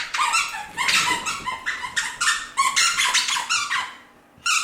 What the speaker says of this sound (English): So my dog is playing with her toy.